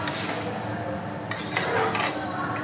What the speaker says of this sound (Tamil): லைட்டாக பரட்டி விடுங்க, இல்லைன்னா அரிசி உடஞ்சிரும்.